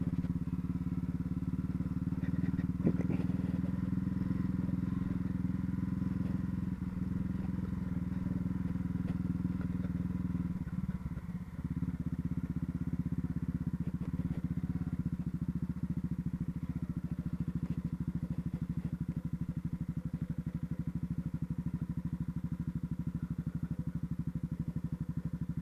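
A 2019 Honda CB Twister motorcycle riding along a dirt road, its engine a steady, low drone heard from the bike itself throughout, with occasional bumps and rattles from the rough surface.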